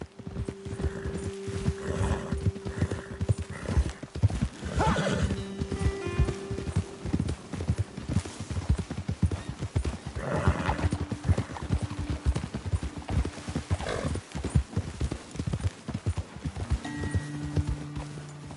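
Horse hooves clip-clop in a steady walking rhythm in the video game Red Dead Redemption 2, fairly close, with a short whinny and light background ambience, no voices.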